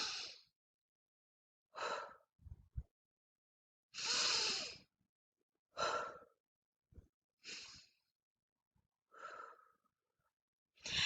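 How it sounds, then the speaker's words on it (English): Slow, deep cleansing breaths at the start of a yoga session, close and quiet, with long airy inhales and sighing exhales spaced across several seconds and silence between them. "I always like to stop and close my eyes and just take 4 cleansing breaths"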